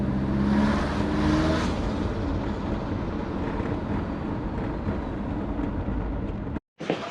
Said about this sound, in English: Turbo sounds good though.